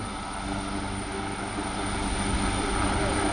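AgustaWestland HH-139 search-and-rescue helicopter hovering low over the sea at an air show, a steady loud rotor and turbine roar filling the whole span without a break.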